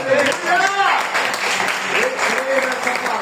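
Church congregation applauding, a steady wash of clapping heard under a preacher's loud, impassioned speech.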